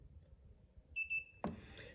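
A Hornet MT-250 racquet stringing machine gives a double electronic beep as its Memory button is held down, two short clear tones close by over a quiet room, followed by a brief clunk.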